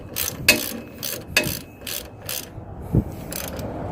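Ratchet wrench tightening a nut during a Ford F150 CV axle install, a few close, crisp clicking ratchet strokes in an uneven rhythm with brief metallic knocks between them.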